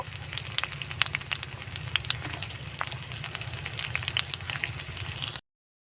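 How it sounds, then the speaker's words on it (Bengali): Onions frying in hot white oil and mustard oil give a steady, dense sizzle with crackling pops and spatter throughout, close and fairly loud, with no voices. "আর আমি এবার পেঁয়াজগুলো দিচ্ছি কিছু পেঁয়াজ আমি ভেজে তুলে নেব"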